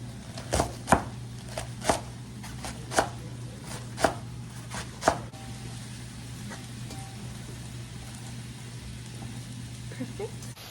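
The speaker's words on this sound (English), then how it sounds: "we're gonna chop this pretty fine" A knife chops vegetables finely on a board for a Chinese-takeout-style dish, about seven crisp, evenly spaced strikes up close, then a quieter stretch of low kitchen hum and faint handling.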